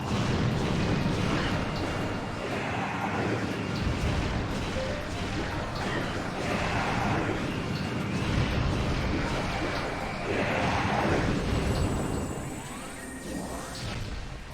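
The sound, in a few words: rapid missile firing in video game Metroid Prime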